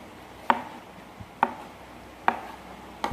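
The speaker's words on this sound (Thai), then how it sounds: "หั่นปลาหมึกใส่ลงไปเลยค่ะ" Four crisp knife chops through squid on a cutting board, evenly spaced about a second apart, close and clear with quiet in between.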